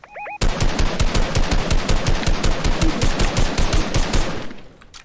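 Rapid automatic gunfire in the video game Fortnite, a loud close burst of evenly spaced shots lasting about four seconds, then fading out, with no voices over it.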